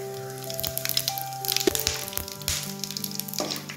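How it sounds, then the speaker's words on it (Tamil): Cumin seeds and black pepper crackle and sizzle in hot oil, a dense close patter of pops over a steady hiss, with faint background music. "இப்போது எண்ணெய் நல்லா காஞ்சிருச்சு. இப்போது ஜீரகம் மிளகு 1 டீஸ்பூன் போட போகிறோம்."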